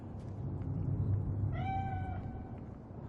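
Single cat meow in Cyberpunk 2077, one clear drawn-out call over low background game ambience.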